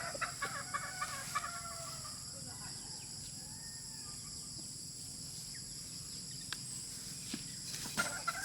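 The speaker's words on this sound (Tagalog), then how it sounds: "pinakita ko lang sa inyo yung mga ilang manok natin na nandito" Roosters and hens on a farm cluck nearby over a steady background hum, with scattered short calls and a crow or two rising above the noise.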